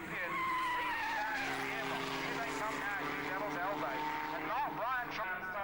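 Racing cars at Mallory Park scream past one after another, loud high-revving engines rising and falling in pitch as they go by, with a commentator speaking over the noise.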